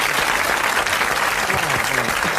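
Studio audience applauding on a 1981 French television show, a dense, loud, continuous wash of clapping from many people with a faint voice briefly surfacing beneath it.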